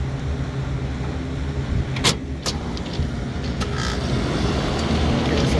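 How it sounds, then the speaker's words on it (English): Trane packaged rooftop unit with two compressors and a new motor starting up after contactors pull in, a low steady hum and rumble with a couple of sharp clicks early on, running up close. "both contactor pulled in, both compressor are working, our new motor is working perfect."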